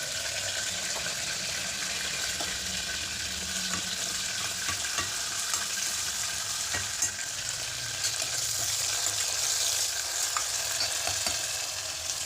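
Curry leaves and onion sizzle and fry in a pan, a steady loud crackling hiss with faint stirring scrapes throughout, no voices.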